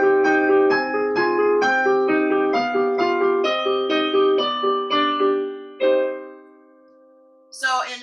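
Piano melody of Twinkle Twinkle Little Star rendered in a minor key, evenly paced sustained notes and chords played alone and close, ending on a held note that decays before a short burst of sound.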